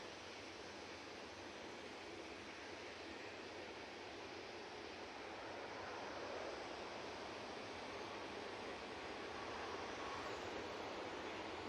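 An airplane arrives at Manchester Airport, heard as a steady, broad jet roar that holds at a constant loud level throughout, swelling slightly toward the end, with no voices.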